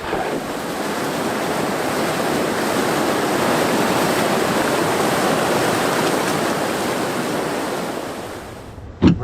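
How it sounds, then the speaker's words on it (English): River rapids on an icy, fast-running river roar in a dense, continuous rush of whitewater, loud and close, with no talking. "We're at the next rapid, which is a class 3 ledge."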